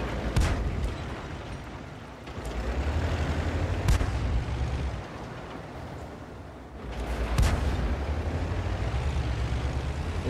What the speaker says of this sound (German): Ich weiß nicht, auf was genau der Excalibur hier schießt